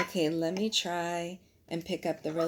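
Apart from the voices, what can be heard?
No everyday noise stands out behind the speech.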